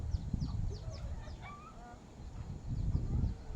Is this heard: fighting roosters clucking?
yes